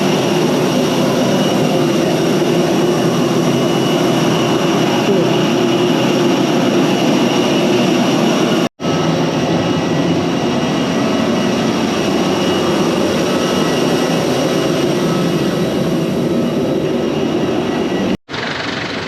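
Loud, steady engine roar with a constant broadband rumble, briefly cutting out twice, from an airliner at an airport in the Philippines.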